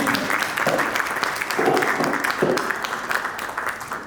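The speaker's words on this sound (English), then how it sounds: "Please have a big round of applause" A large audience at a conversation event gives a round of applause, continuous and fairly loud throughout the short stretch, with a few rhythmic pulses in the clapping.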